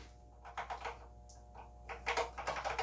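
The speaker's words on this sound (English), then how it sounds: "now the keyboard's working just fine" Keys clatter on an Apple II Plus computer keyboard in uneven bursts of clicks, close and fairly quiet, with a short pause before a faster run of typing.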